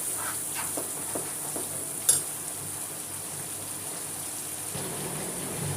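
Masala sizzles steadily in hot oil in a pan as a spoon stirs and scrapes through it, with a sharp metallic clink near the middle and a continuous frying hiss underneath.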